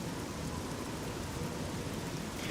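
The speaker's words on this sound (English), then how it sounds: "Harder rain. And with lightning." Heavy rainstorm with lightning from a Fallout 3 weather mod, set in the game's wasteland: a steady, dense wash of rain noise that stays loud and even throughout, with no speech.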